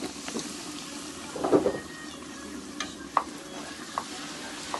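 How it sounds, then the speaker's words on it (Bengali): Luchi frying in a pan of hot oil at a wedding kitchen, a continuous crackling sizzle with occasional sharp clinks and spatters, near and moderately loud, no clear talk. "আর এখানে মামি লুচি ভাজবে এবার"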